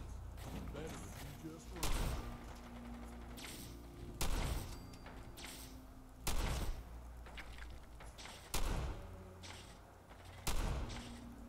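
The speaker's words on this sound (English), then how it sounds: "This guy's really throwing a lot of grenades my way." Grenade blasts in Fallout 4 land as several heavy booms about every two seconds, rising over a constant bed of combat noise and gunfire.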